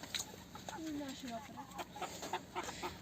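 Young chickens cluck softly nearby in a short series of low calls, with faint background noise.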